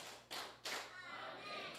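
Congregation in a church service clapping in unison, two sharp distinct claps followed by scattered softer noise and faint voices.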